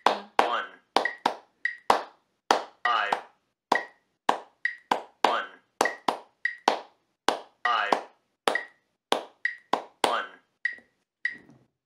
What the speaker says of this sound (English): Now you will be clapping the Montuno.